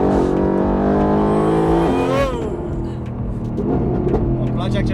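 A car with ceramic brakes accelerates while being driven, its engine note rising in loud sustained harmonic sweeps that climb then drop, close up, with people talking over it.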